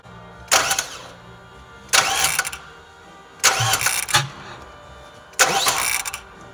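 A Mazda Miata's engine is cranked four times in a row, each attempt a short burst of starter whir and sputtering catch lasting about a second, with quiet gaps between, the car being checked for leaks after work on the valve cover.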